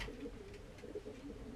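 Pigeons in a dark loft give soft, low cooing calls, repeated in quiet overlapping murmurs at close range.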